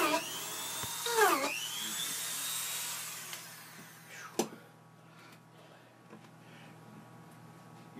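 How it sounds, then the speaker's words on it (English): A Dremel fitted with a small drill bit bores pilot holes in a plastic street cone for a dust cyclone, whining shrilly and sweeping down in pitch as it cuts, then winding down to quiet handling noises and a couple of sharp taps. "I drill about 6 holes per support."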